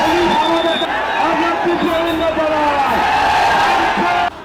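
A large crowd roars and shouts continuously during a stone-pelting riot in which a mob chanting slogans surrounds a village, a dense, loud wall of voices with rising cries throughout.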